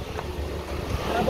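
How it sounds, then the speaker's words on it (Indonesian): Strong outdoor wind buffeting a microphone, a continuous low rumbling roar that stays loud and unbroken for the short stretch. "Anginnya kencang banget ya."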